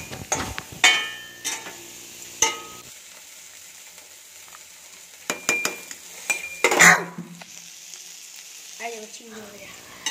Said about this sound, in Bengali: আর এদিকে আমার ছেলে কি সুন্দর চিংড়ি মাছ ভাজছে দেখো বন্ধুরা।